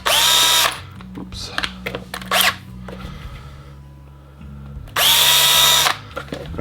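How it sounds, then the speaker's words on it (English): A power drill with a 1/8 inch bit bores holes in the chassis of an HPI Baja 5B Flux RC car, two loud whirring bursts separated by quieter handling noises and a brief spoken word. "You can use an 1/8 inch drill."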